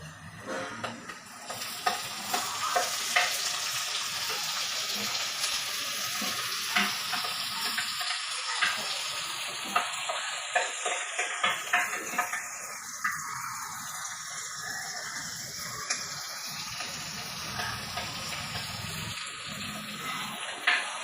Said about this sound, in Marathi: आता यात आपण भोपळी मिरची, गाजर आणि कांदा परतून घेणार आहोत